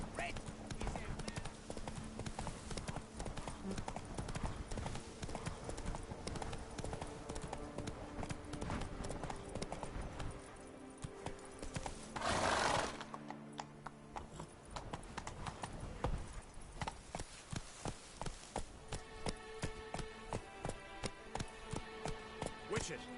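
Roach, a horse in The Witcher 3: Wild Hunt, gallops with steady, loud clip-clopping hoofbeats that continue through the clip, briefly interrupted by a burst of noise, while someone talks over them.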